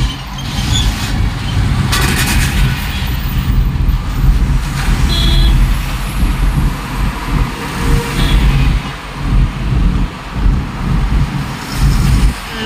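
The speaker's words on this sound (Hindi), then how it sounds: "लोनावला ट्रैफिक" Road traffic near Lonavala under cloudy weather: a continuous loud rumble of passing cars and trucks with heavy wind buffeting on the microphone and occasional brief clatters.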